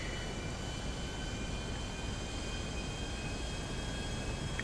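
A plane's engine drones as a steady, even, rather faint roar in the game GTA V, with no voices over it.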